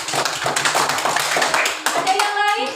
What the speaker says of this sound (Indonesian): Tepuk tangan dulu untuk Marcel.